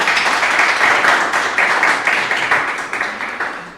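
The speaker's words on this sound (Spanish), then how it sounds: "Un aplauso también para ella" Audience applause at a classroom debate event on emotions in music: a steady, dense wash of clapping that holds for several seconds, then gradually thins and softens toward the end.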